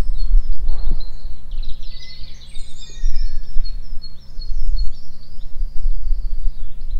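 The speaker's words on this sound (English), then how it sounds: "birdsong is more prominent since all the aircrafts, cars, people are off the roads in the air" Springtime birdsong in a community garden in Hackbridge: several chirps and trilling phrases close by, layered over a low outdoor rumble and hum, with no one speaking.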